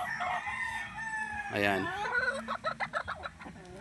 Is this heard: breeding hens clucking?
yes